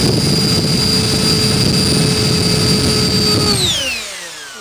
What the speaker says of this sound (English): Just playing around here with this new XPS fan unit.